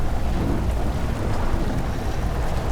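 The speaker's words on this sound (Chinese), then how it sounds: "怎么就突然下雨了呢？" Sudden heavy rain makes a dense, steady hiss that stays loud and unbroken for a few seconds, with no voices over it.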